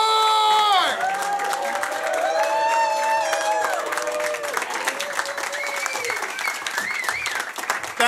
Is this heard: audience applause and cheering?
yes